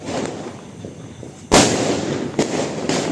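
A Lakshmi firecracker goes off during a Diwali celebration. One loud, close blast is followed by a second sharper crack and a third pop, each leaving a lingering rumble.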